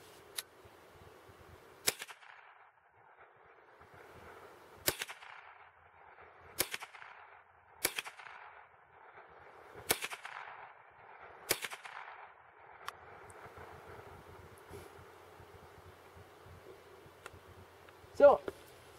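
Sharp, isolated cracks from a Remington Nylon 66 rifle fired at cans, about seven spaced shots across a quiet outdoor stretch, each short and snappy with a brief tail, plus a louder final report.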